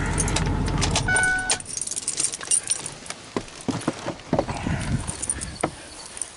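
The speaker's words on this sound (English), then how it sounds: "keys back in my pocket." Keys jangle in a burst of small metallic clinks as they are pushed into a pocket, close up, followed by scattered rustles and taps with a faint vehicle rumble early on.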